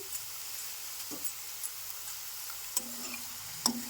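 Bitter gourd (hagalkayi) chips frying in hot oil give a steady, close sizzle with a few faint ticks and light clinks over it, and no talking.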